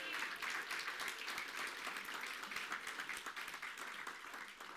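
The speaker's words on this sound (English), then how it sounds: "Let's give them a round of applause." Church audience applauding to congratulate a couple on a baby's birth, steady dense clapping heard from a distance, fairly faint but continuous for the whole stretch.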